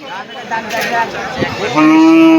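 A cow moos loudly and close by at the Railbazar cattle market in Dinajpur. The moo is long and drawn out, ending in a strong sustained tone, with faint market chatter behind it.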